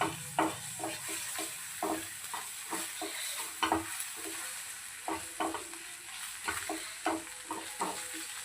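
Onions with ginger garlic paste fry quietly in a pan, a soft sizzle broken by repeated rhythmic scraping stirs of a spoon against the pan, close and without talk.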